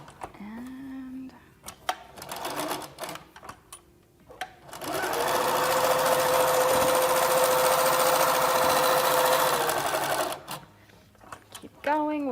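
A sewing machine stitches straight diagonal quilting lines, running steadily and loudly for about six seconds in a continuous motor hum, with brief speech and handling sounds before and after.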